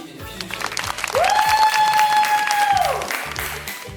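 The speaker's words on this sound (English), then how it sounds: "Give yourself a round of applause" Audience at a school event in Surabaya applauding, a burst of clapping under a long sustained musical tone, with voices briefly before and after.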